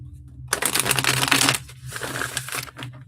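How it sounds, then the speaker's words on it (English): A deck of cards is shuffled during a live tarot reading, giving a close, crisp riffling burst that eases into softer rustling shuffles. No one speaks over it. "Shuffle these up."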